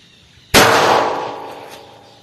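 .380 ACP pistol fired into a block of soap: a single sharp, loud shot with a ringing tail that fades slowly over about two seconds, no voices.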